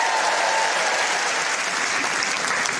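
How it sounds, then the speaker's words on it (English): A comedy club audience at a Michael McIntyre stand-up show bursts into dense, loud applause that fills the room evenly and holds steady throughout. "Round of applause, you got children?"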